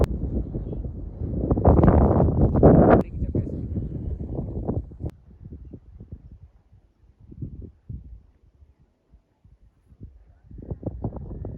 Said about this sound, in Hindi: बहुत ठंडी ठंडी हवा चल रही है